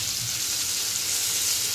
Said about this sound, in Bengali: আজ তো ইলিশ ভাজা